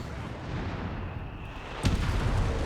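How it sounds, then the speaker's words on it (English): A StuG D tank sets off a mine in the video game Company of Heroes 3: a single sharp blast breaks through low battlefield rumble near the end. "we got the Stug D setting off another mine, it appears"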